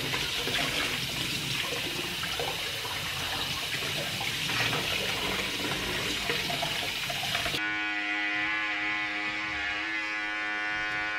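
Water runs steadily from a tap during hair washing at home, a loud continuous gush that gives way to a brief tonal hum near the end, with no voices.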